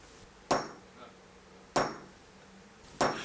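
A hammer strikes a steel prick punch set on metal to mark scribe lines, three sharp, ringing metallic taps spaced over a second apart, close and clear with short decaying rings and a faint tap between.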